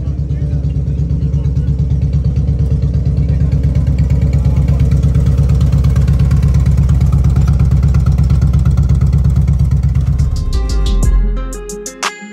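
A motorcycle engine idles loud and close with a steady, throbbing rumble for about ten seconds before it cuts off, leaving a few clicks and knocks, at a charity ride gathering in Islamabad, Pakistan.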